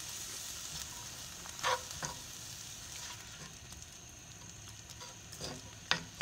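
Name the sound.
minced garlic and chopped onion frying in a pan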